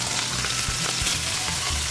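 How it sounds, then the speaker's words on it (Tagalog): Dried fish, tuyo, frying in hot oil gives a dense, continuous crackling sizzle with small pops, close and fairly loud throughout, no voices. "Ito yung pinaka basic sa pagprito ng tuyo."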